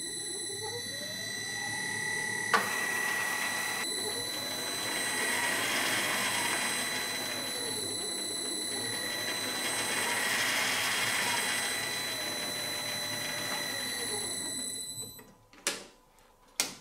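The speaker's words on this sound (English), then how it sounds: "Let me just spin it up, Keith, make sure nobody's touching." A Connoisseur workshop machine spins up from rest, its motor whine rising and holding steady with a ticking mechanical rhythm throughout, close and fairly loud, then cutting off near the end with a couple of knocks.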